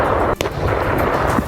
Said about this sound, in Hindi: जिससे जोरदार धमाका हुआ।